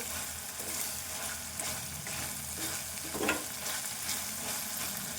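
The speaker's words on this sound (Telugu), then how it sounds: "ఈ ఉల్లాకంతా మంచిగా గోలాలి ఇలా వర్కులు వర్కులుగా అంతా గోలాలి" Chopped onion greens sizzle and fry in a pan while a spoon or spatula stirs them, a steady hiss of cooking with soft scraping strokes and a brief louder clatter, close by and without talk.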